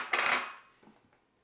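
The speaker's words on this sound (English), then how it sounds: "we have the rice, and I'm going to take my blender here, and we will just pour that in" Dry rice pours into a Vitamix blender jar, a bright rattling hiss of grains lasting about half a second, followed by a few faint scattered ticks as it settles.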